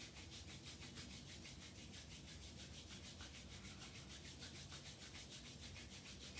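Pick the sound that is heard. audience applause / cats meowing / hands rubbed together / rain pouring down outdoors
hands rubbed together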